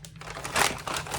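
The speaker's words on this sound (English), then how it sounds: "Apologies for the crinkling." Gift wrapping from an advent package crinkles and crumples close by in a short, busy burst of crackling paper.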